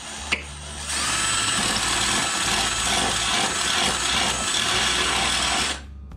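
A power drill bores out a hole to 3/8 inch for a carriage bolt while mounting an air bag plate on a third-generation Camaro or Firebird, running steadily and loud for about five seconds after a brief click.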